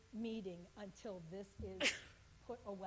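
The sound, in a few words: sneeze during a committee meeting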